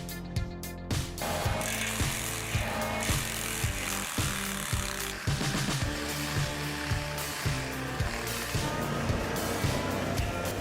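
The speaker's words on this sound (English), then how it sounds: "the winch drags the rotten base out of the yard" A winch strains to drag a rotten tree stump's base out of yard ground, giving a loud, continuous mechanical grind with rhythmic ratcheting clanks and pulses throughout, amid heavy timber work.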